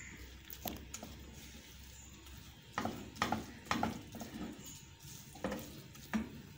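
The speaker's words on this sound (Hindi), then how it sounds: "इसको अच्छी तरह से इस तरह से मिक्स कर लेंगे।" A spoon scrapes and stirs khoya in a pan while mixing barfi, giving irregular scraping strokes with soft sizzling underneath, close up and fairly quiet.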